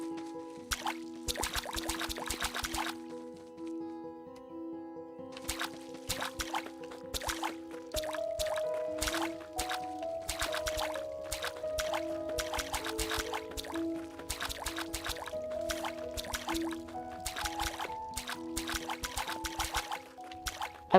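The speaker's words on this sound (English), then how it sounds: "Let's water these plants." Plants are watered in the farming game Staxel, with soft pouring and dripping splashes sounding in short bursts beneath steady, plucked background music.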